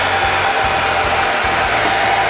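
A hair dryer blows steadily, heating plastic on a damaged car bumper, its constant whooshing hum loud and close with a faint pulsing low rumble throughout.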